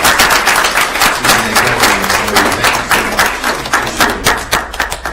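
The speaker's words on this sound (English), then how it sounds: "Please give Mr. Bateman a big round of applause." An audience applauds Mr. Bateman at a school district board meeting, loud and close, a dense run of many hands clapping that carries on steadily throughout.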